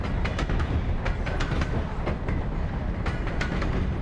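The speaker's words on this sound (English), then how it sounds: "Wasn't expecting a train." A train rolls past on Mars in the video game Technolust, a loud, continuous rumble with rhythmic clickety-clack wheel beats and metallic rattles, close up and without speech.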